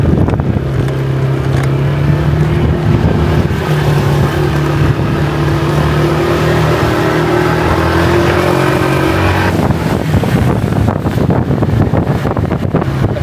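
Scooter ride along a jungle road, with a steady engine drone, gusting wind buffeting the microphone and a shift in engine note near the end; no talking.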